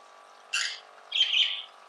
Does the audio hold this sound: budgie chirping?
yes